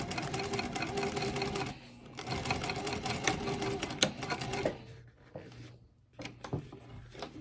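A sewing machine stitching fabric corners of a dog treat bag, a close, steady mechanical whirr in runs with short pauses and start-stop bursts near the end.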